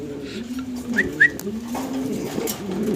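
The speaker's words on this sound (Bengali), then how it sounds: "আমরা 3 পিস কবুতর একসাথে দেখাইতেছি আপনাদেরকে" Fancy pigeons cooing at a pigeon seller's stall, soft low throaty coos repeating close by with a couple of brief higher chirps, no speech over them.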